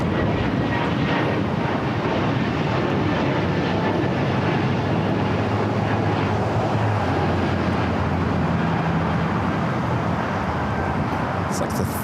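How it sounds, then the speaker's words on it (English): Breeze Airways Airbus A220-300 taking off at Los Angeles International Airport, a strong continuous jet engine roar with a low rumbling tone, steady and fairly near, while a voice talks over it. "We got another breeze, Airbus A220, 300 taking off."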